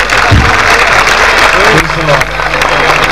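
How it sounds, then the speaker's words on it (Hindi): Loud clapping from a congregation at a grand revival crusade rings out in praise, a close, busy patter of many hands running under voices that call out over it. "उसके बाद खुदावंद के लिए जोरदार ताली बजाएंगे।"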